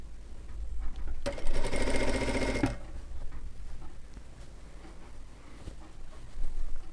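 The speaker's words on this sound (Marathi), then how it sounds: "तर स्टार्टिंगला लॉक करायची शिलाई" A sewing machine stitches a katori blouse in one loud, rapid burst of rhythmic needle clatter lasting under two seconds, then stops, leaving quiet room noise with faint handling sounds.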